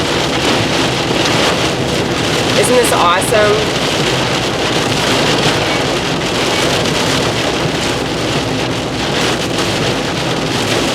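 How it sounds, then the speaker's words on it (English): Heavy rain drums on a moving car, a dense, loud, continuous roar with road noise beneath, while a person speaks briefly over it. "here's that rain"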